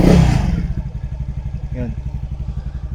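A Skydrive Sport 115 CVT motorcycle engine gets a quick throttle blip, then settles into a steady, rhythmic close-up chug, with a short spoken word over it.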